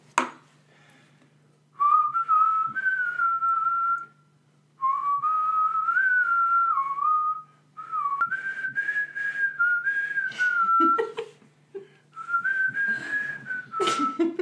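A person whistling a tune while playing the board game Cranium, steady melodic phrases with short pauses between them, clear and close in a quiet room.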